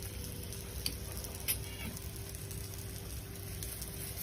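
A paneer-and-potato paratha sizzling on a hot griddle, a continuous quiet crackling hiss with a couple of brief sharper pops and no speech.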